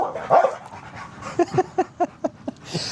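A dog vocalizes with a whimpering yelp and then pants in a quick rhythmic series of about eight breaths, close and clear with no talk.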